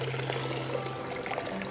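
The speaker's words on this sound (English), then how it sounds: "I simply drain the water off by inverting the jar" Water drains in a steady pour from an inverted glass sprouting jar fitted with a mesh sprouting lid after soaking wheatgrass seeds, a continuous close trickle with no talking.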